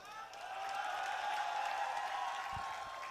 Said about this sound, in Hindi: अभी ताली मत बजाओ।